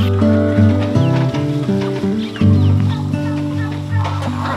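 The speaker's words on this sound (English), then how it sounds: "So come on, let's feed our ducks." A flock of ducks on a duck farm in Zamboanga City, a loud continuous chorus of overlapping quacks and honks close by, with steady farm background noise.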